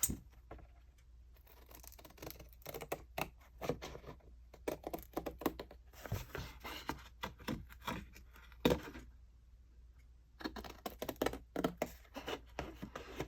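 Paper is cut out for a honey bee journal, giving quiet, close, rapid snipping and crinkling clicks in irregular bursts separated by brief pauses.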